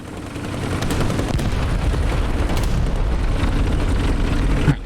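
Enemy tanks fire in the War Thunder video game, producing sustained loud, rumbling gunfire with repeated booming reports and a dense background roar throughout.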